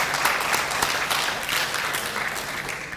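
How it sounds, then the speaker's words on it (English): An audience at a high school awards ceremony claps steadily for about three seconds, a dense, even patter with no voices. "big round of applause"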